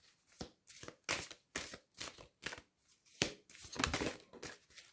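Oracle cards being shuffled and drawn by hand, a series of quick papery riffles and slaps in irregular bursts, close and crisp with short pauses between them and no talking.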